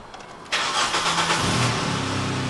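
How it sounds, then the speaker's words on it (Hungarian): A car engine cranks briefly, then catches and runs, a close, loud rough idle with an uneven, sputtering pulse continuing to the end. "Elindul, alapjárat van, de fordulatom föttög."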